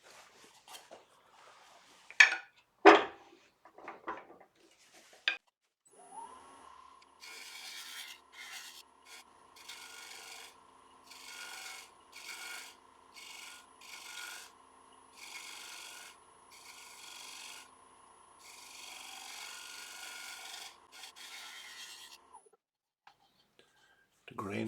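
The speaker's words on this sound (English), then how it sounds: "So now I'm just going to start off with a 3/8 inch ball gouge." Ash being turned on a wood lathe with a 3/8 inch ball gouge: a few sharp knocks first, then a steady scraping, rubbing cut that comes in repeated passes with short breaks, moderately loud and close, with no talk over it.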